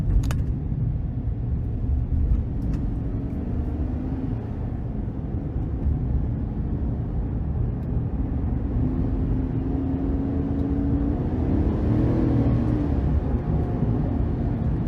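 A 2023 Chevy Silverado 1500 Work Truck crew cab with a 5.3 V8 and 10-speed transmission accelerating in low gear, heard from inside the cab as a steady, loud low engine drone and road rumble with a rising tone toward the end.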